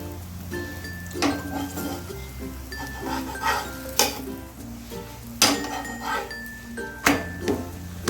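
Wheat parotta frying in a pan over a medium flame, a soft continuous sizzle broken by clinks and scrapes of a spatula as the bread is turned repeatedly, close and moderately loud.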